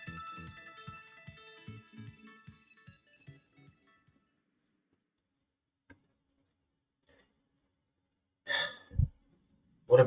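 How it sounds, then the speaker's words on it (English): The Arc Phone in Pokémon Legends Arceus gives a short run of repeated tonal beeps in a regular pulse that tapers off into silence, followed a few seconds later by a breathy sigh. "Your Arc phone is beeping"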